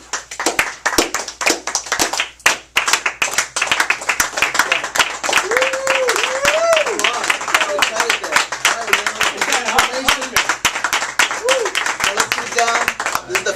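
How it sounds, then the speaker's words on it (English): Rhythmic group clapping at an indoor nutrition seminar, steady sharp claps in a regular beat, fairly loud and close, with a voice calling out and speaking over the claps. "let's do a little bit of clapping, come on"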